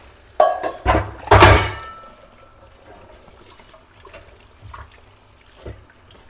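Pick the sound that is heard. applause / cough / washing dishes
washing dishes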